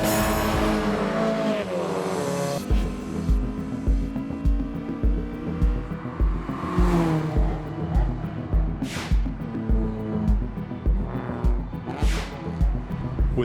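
Race car engines roar and rev as cars speed past in repeated surges on the track at Ridge Motorsports Park during an endurance race, with gear shifts and a loud, close pass partway through.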